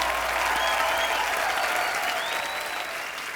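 Loud, sustained applause from a studio audience on a comedy talk show, welcoming a singer as a steady, dense wash of clapping throughout.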